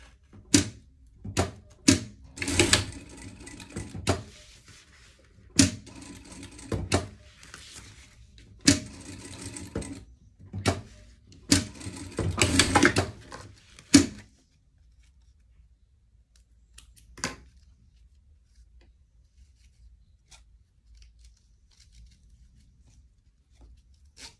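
Sewing machine stitching a pet life vest, heard as several short bursts of rapid mechanical whirring with brief pauses between them, loud and close, then near silence with one faint click toward the end.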